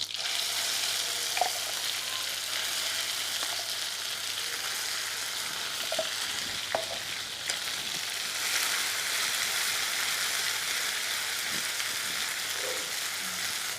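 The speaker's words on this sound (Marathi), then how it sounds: "जिरं आणि आपण बारीक करून घेतलेले हे जे वाटण आहे ते टाकून घेऊयात" Ground masala paste and cumin fry in hot oil for katachi amti, a steady close sizzle with a few light clicks and stirring knocks throughout.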